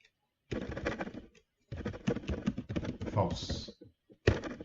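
A computer keyboard has keys pressed in light, scattered clicks beneath someone talking steadily throughout.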